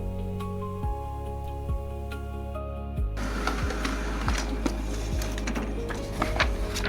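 A Samsung SL-C513 color laser printer runs with a steady mechanical whir and hum, punctuated by periodic clunks and rising whines, growing busier and louder partway through as pages feed.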